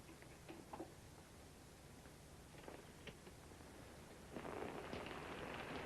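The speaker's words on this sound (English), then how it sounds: "It is raining." Steady rain patters faintly with scattered drip ticks, then swells into a louder, denser downpour near the end.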